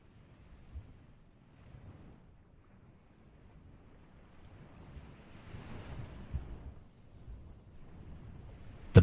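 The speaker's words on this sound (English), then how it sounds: "The morning begins with the sound of moving water." Ocean swells and moving water offshore near a kelp forest, a soft continuous wash rising and falling with gentle surges, joined by light wind buffeting the microphone, with no voices.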